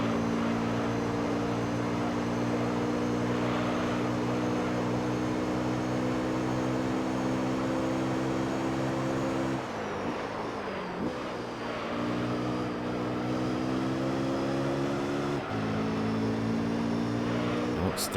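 Honda NSX race car engine in Gran Turismo Concept on the PS2 Mid-Field Raceway, a loud sustained high-revving drone that drops and climbs through gear shifts around mid-lap.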